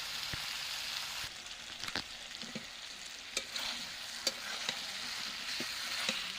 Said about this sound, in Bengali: ভালো করে কষাবো যতক্ষণ না তেল ছেড়ে আসে